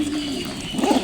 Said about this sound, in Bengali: কবুতর গোনো তো, কবুতর গোনো তো।